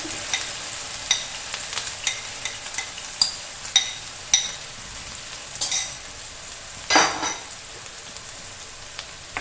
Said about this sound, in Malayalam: ഈ എണ്ണയിലേക്ക് തന്നെയാണ് ഞാൻ അരച്ചു വെച്ച സവോള എല്ലാം ഇട്ട് കൊടുക്കുന്നത്.